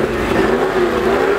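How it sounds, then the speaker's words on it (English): A car engine revs at an outdoor car show in Detroit, a loud, sustained growl whose pitch climbs gradually and holds steady, heard alone without talk. "Somebody's revving."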